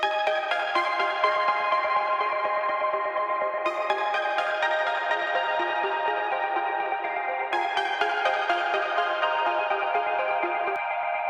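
An Access Virus TI Snow synthesizer plays a bright trance arpeggiator pattern with a counter melody and a main melody, loud and continuous, with no voices.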